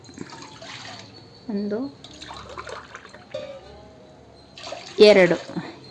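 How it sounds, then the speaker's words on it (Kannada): Two glasses of water, about half a litre, go into a kadai for gulab jamun sugar syrup, a short splashing pour near the end after scattered quieter kitchen sounds. "ಎರಡು ಗ್ಲಾಸ್ ನೀರು ಹಾಕ್ಕೊಂಡಿದ್ದೀನಿ."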